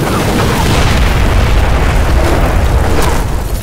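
Missile explosions in Splinter Cell: Blacklist, a continuous very loud roaring boom with heavy low rumble that fills the whole stretch without a break.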